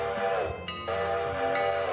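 A train rolls along in the Railroader video game, a loud continuous rumble of moving wagons topped by a sustained horn-like whistle tone that briefly dips and returns.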